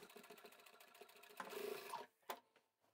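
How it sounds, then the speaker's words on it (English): A sewing machine top-stitches a folded fabric flap on a portable hanging toilet roll holder, its needle chattering in a steady fast run that speeds into a louder burst before stopping, with a few short clicks and no talk. "So fold the flap over and top stitch 1/8 inch from"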